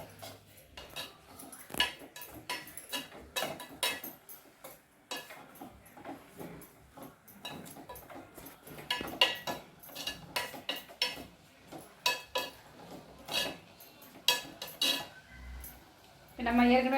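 A utensil stirs beetroot pachadi in a pan, scraping and clinking against the metal in an uneven stream of close knocks and rattles for a long stretch, with a louder thud at the end.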